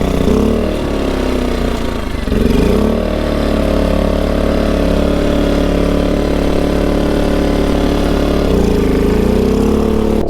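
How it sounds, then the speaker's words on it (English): A small gasoline engine drives a water well pump at an off-grid tiny house, running loud and steady with a close, even drone and a slight change in pitch now and then, with no voices. "Still starts on the first pull. That's the first time it's ran today. Started the well up"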